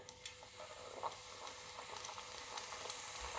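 Sugar boils in a Breville Thermal Pro non-stick electric frypan (BEF460), giving a steady faint bubbling sizzle with small pops throughout and no talk.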